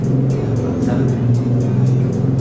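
A motor vehicle, most likely a motorbike, passes close by with a steady engine drone and a brief rise as it goes past, over continuous road noise, with a voice speaking underneath.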